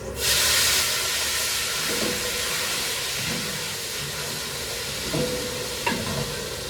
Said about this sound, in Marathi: जिरे मोहरी टाकल्याच्या नंतर आता आपल्याला हिरव्या मिरच्या सोडून घ्यायचं.